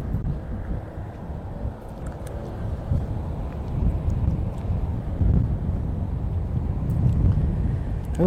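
Strong wind buffeting the microphone outdoors, a steady loud low roar with gusting surges throughout and no talk.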